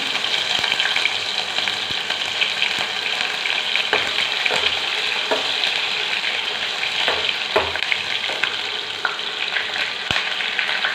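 Cumin, green chili and ginger frying in hot oil for a chholiya (green chickpea) curry, a steady dense sizzle with occasional sharper crackles and pops, close and continuous throughout.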